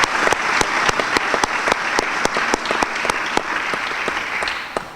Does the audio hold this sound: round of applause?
yes